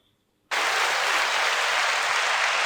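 A burst of applause and cheering starts suddenly after a short silence and then holds loud and steady, a crowd clapping from a recording played on a podcast.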